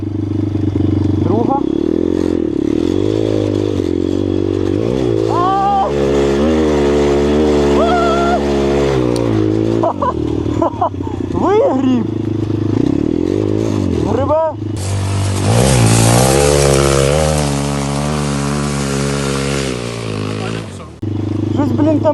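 A small Kovi Pit pit bike engine revs and drops while being ridden, loud and close with rising and falling pitch, a rattle showing through and a person talking and laughing over it.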